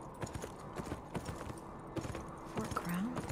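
Horse hooves clip-clop in a video game, a quick, steady rhythm of fairly quiet hoofbeats with a brief voice sounding near the end.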